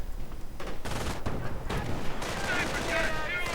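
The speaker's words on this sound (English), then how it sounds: "MG42 though saving the day" MG42 machine gun in a World War II strategy game, loud rapid bursts of fire mixed with other gunfire and battle noise, with short gaps between bursts.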